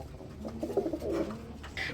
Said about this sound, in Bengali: প্রিয় বন্ধুরা, আমরা এক জোড়া মাক্সি কালার রেসার কবুতর দেখাবো।